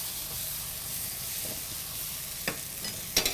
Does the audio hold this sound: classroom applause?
no